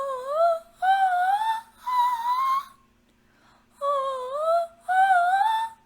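A solo voice sings a wavy melismatic run in a lower register. Three quick rippling phrases come first, then a short silence and two more, close and fairly soft over a faint steady hum.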